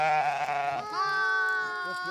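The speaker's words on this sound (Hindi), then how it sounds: "ये अपने बच्चे को आवाज़ लगा रही है बेचारी भेड़" A sheep ewe at a shepherds' farm bleats loudly and close, one long wavering call that rises in pitch partway through, calling for her lamb that has been sold.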